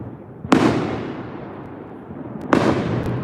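Two July 4th fireworks burst in turn, each a sharp boom followed by a rumbling, crackling tail that fades out. They sound moderately distant, with no voices over them.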